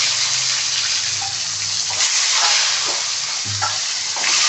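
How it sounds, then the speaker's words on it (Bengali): Peeled boiled eggs frying in oil seasoned with turmeric and salt for a home-style egg curry: a loud, steady crackling sizzle, with occasional low bubbling pops as the eggs shift in the pan. "তো সবার থেকে প্রথমে ছুলে রাখা ডিম তেলে ভেজে নেব"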